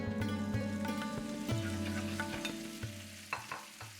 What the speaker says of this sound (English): it's just literally crisping up the potatoes on really high heat